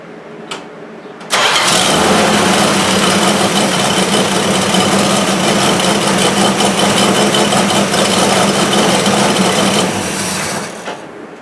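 A 1973 Plymouth Duster's 225 Slant 6 engine with an exhaust leak starts up after a faint lead-in, then idles steadily and loudly for about ten seconds with a rough, ticking chuff before winding down.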